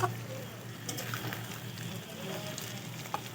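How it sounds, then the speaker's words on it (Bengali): Goat meat braising and frying in a pan gives a low, steady sizzle and crackle throughout, with faint background noise and a brief knock at the start. "এই যে খাসির মাংস কষানো হচ্ছে"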